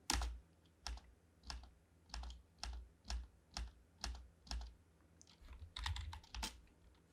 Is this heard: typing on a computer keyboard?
yes